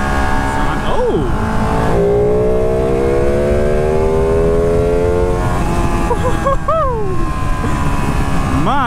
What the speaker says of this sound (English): But this bike feels so much better when you're throttling it up.